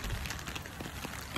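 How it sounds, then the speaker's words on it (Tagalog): Rain falling on a wet, overcast day in Daigo Town, Ibaraki Prefecture, a soft steady patter with scattered drop hits, faint and continuous with no talking. "Eto na nga po at umuulan."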